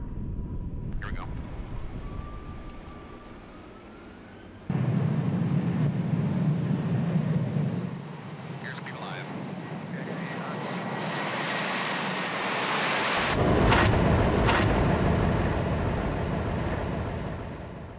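A Boeing 737 airliner runs up for takeoff, and its engines rise from a faint whine to a loud, broad roar heard from inside the cabin, building with rumble and rushing air.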